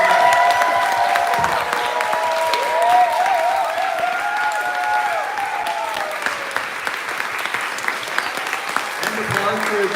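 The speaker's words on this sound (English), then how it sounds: "One more round of applause." Sustained audience applause fills a crowded room at a Pride-night author talk, dense steady clapping with scattered cheers and whistles, loud and continuous throughout.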